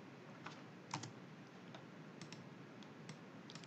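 Quiet, steady typing on a computer keyboard, light key clicks in an uneven run with a couple of slightly sharper taps, close but faint over a soft hiss.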